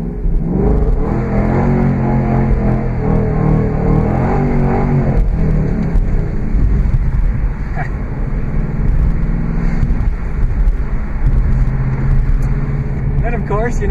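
Ford Mustang revving hard while spinning its rear tires on snow on a winter day, a loud continuous engine roar with rising and falling pitch throughout, with people talking over it.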